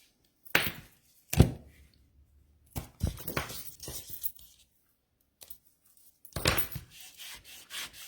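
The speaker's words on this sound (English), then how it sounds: "Give that a good burnish" Tape on a folded paper craft piece is burnished with firm rubbing strokes, heard as several short, close scraping bursts separated by pauses.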